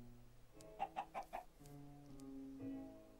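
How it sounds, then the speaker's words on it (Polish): Chickens in the video game Minecraft give a quick run of four rhythmic clucks, followed by softer bird sounds, all faint and quiet. "No, żeż głupie kury."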